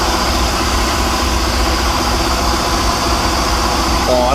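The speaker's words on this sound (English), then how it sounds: "I've never heard that engine sound like that before." A restored boat engine with new coils idles steadily with a low, even rumble and constant vibration, loud and close, without changes in speed.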